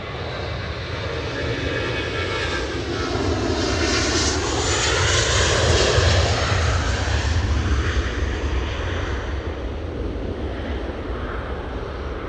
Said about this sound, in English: sound of the engines winding up.